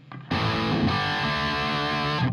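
Guitar through the drive channel of a Garland Tyranos tube amp head gives one loud, distorted chord that sustains for about two seconds before being cut off, with no talking.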